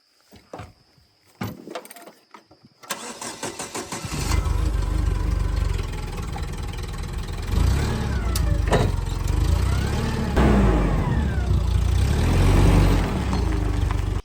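A forklift with a weak, underpowered engine cranks and catches after a few seconds, then settles into a loud, close, steady run as it drives up a moderately steep driveway on a farm.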